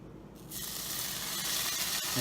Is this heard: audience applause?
no